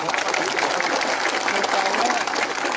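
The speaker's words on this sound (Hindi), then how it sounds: "सब इनको भी एक बड़ा ताली दीजिए।" Rally audience clapping in a sustained, fairly loud burst of many hands, with some crowd noise and voices woven into the steady applause.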